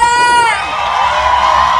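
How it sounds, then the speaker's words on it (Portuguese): A live crowd at a show on Jovens Tardes da Globo in São João de Meriti cheers and applauds loudly and steadily, rising right after a brief sung or called-out voice. "Uma salva de palmas pra minha produtora."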